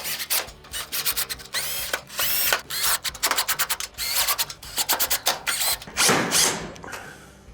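Screws are driven in to fasten a panel on a Whirlpool oven, with a cordless driver whirring in rapid repeated bursts and ratcheting clicks, close and fairly loud, with no talk.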